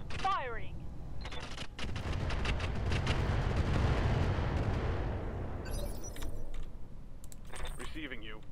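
Mech weapons firing in the Roguetech battle game, a burst of rapid sharp reports swelling into a long rumbling barrage, with a voice speaking briefly at the start and electronic blips near the end.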